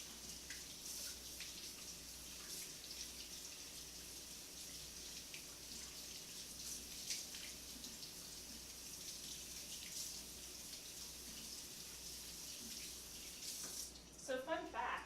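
Tap water runs steadily into a sink while garbanzo beans are rinsed, a continuous faint hiss heard close, with a voice speaking near the end.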